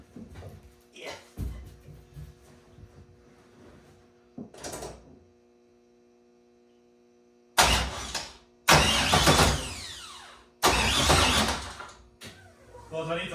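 A GM LS3 V8 being cranked for its very first start-up, heard as several loud bursts of starter whine and engine churn separated by short gaps, following quieter stretches of someone talking and clattering in a garage.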